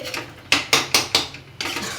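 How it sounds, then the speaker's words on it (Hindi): A metal utensil scrapes and clanks against a pan as masala spices are dry-roasted, several sharp close strokes in quick rhythm, with no talking. "ये देखिए मसाला में भूज रहे हैं"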